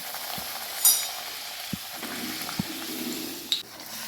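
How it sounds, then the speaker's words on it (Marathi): Puris frying in hot oil over a medium gas flame, a soft steady sizzle with a few faint clicks and light taps from a utensil, close and alone without talk. "आता आपण पुऱ्या तळून घेऊया."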